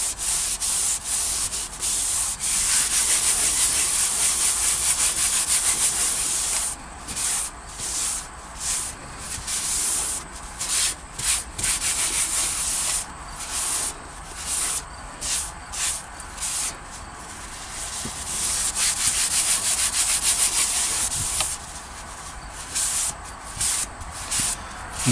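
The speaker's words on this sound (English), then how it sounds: "So I'm just going to have to wipe this area down a little bit more." Cloth rubbing over a car dashboard, steady swishing friction strokes close up, continuous at first and then broken into short repeated wipes, loud and alone with no talking.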